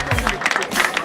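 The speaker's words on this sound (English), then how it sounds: "We have a round of applause for Assemblyman Luis Sepulveda" A crowd claps for Assemblyman Luis Sepulveda at an Old Timers Day event, a brief burst of scattered applause with a voice speaking over it.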